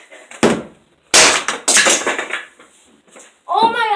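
A hammer smashes a homemade fidget toy, giving a few sharp, loud impacts spaced about half a second apart, with people talking around the blows.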